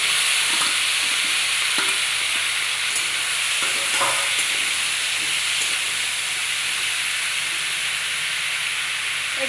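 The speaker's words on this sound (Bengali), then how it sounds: "এবার দিয়ে দেব সিদ্ধ করে রাখা মোচা ও আলু।" Boiled banana flower and potato fry in a pan with black cumin, a loud, steady sizzle and hiss under occasional spoon scrapes and stirring knocks throughout.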